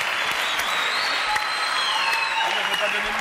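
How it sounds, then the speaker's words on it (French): A studio audience on a French TV variety show claps steadily, a broad, even wash of applause with faint voices mixed beneath it. "Applaudissements pour maman et Fifi, pour moi."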